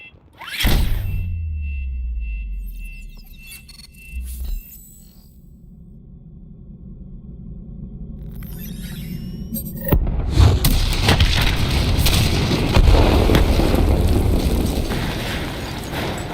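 A detonation in the Black Ops 3 game campaign sets off a sudden deep boom with a long rumbling tail, a smaller thud a few seconds later, then a heavy blast and sustained roaring debris and rumble.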